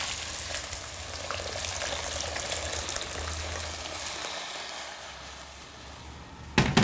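Water rushes steadily into a cooking pot over soft, tangled vegetables, about one and a half litres poured in a continuous hissing stream that ends in a brief clatter.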